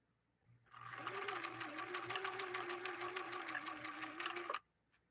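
A Viking Husqvarna 19E sewing machine stitches steadily for about four seconds, a close, even mechanical whir with rapid needle ticks that starts and stops cleanly.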